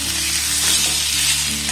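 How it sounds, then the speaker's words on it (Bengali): Boiled potatoes fry in hot oil over a low to medium gas flame, making a close, continuous bright sizzle with faint stirring and no speech. "এবার যে আলুগুলোকে আমি সিদ্ধ করে রাখলাম সেই আলুগুলোর মধ্যে দিয়ে একটু ভেজে নেব।"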